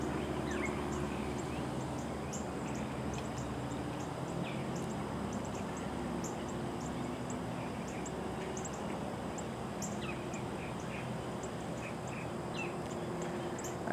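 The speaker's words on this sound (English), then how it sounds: "I hear a mockingbird trying to do a chuckle's widow." A mockingbird calling outdoors at a hawkwatch site, faint repeated chirps and phrases scattered throughout over a steady low background hum and distant birdsong, quiet and far off, no talking.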